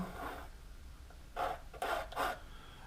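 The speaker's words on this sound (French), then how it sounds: "si je gratte, je laisse apparaître un petit peu le grain de la toile" A palette knife scraping paint across canvas while painting a seascape, several short rough rasping strokes, close and fairly loud, the last three in quick succession.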